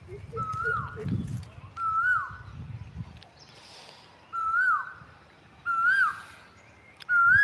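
A Jacobin cuckoo's loud, ringing whistled call repeats several times with short gaps, each note sliding downward, over low rumbling background noise in a forest.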